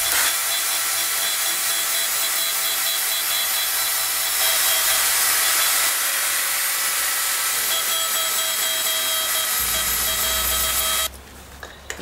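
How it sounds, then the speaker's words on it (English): A Dremel-type rotary tool roughens the surface of a knife handle, a steady high-pitched grinding whir that runs continuously near the mic for about eleven seconds before cutting off. "So I use a Dremel, or type of Dremel tool, just roughen the surface."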